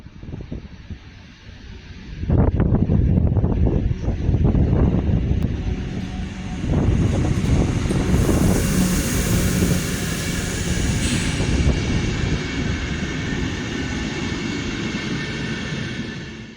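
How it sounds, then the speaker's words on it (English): A Dutch NS Class 1700 electric locomotive pair hauls a mainline train past, a loud rumbling roar that swells suddenly, holds as the wagons pass nearby, and carries heavy wind buffeting. "What you have just witnessed was the last mainline train to be hauled by an NS-owned locomotive."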